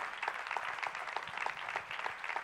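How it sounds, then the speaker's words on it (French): A church congregation at a youth seminar applauds in steady, even clapping, a dense crowd sound at moderate distance lasting a couple of seconds, with no voices on top. "Est-ce que tu peux encore acclamer Jésus là où tu es"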